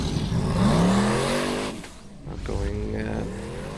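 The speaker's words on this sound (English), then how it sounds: "Now Jóhann Guðlaugsson driving Thunderbolt" A Formula Offroad vehicle drives a competition course in Akureyri, Iceland, its engine revving and rising in pitch at a distance, easing off and then climbing again, while an announcer talks over it.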